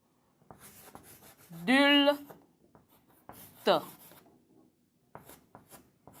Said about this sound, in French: Toujours à la fin de la ligne, j'écris adulte.